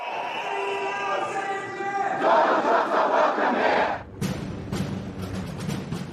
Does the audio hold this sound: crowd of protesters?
yes